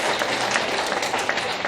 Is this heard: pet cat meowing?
no